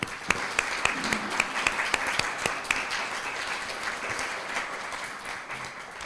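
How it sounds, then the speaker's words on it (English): An audience at an anniversary roundtable for a humanities center applauds its donors, with steady, moderately loud clapping and several sharp individual claps standing out early on before the sound thins slightly toward the end. "I want to give a special round of applause to all those people who have donated to support the Humanities Center"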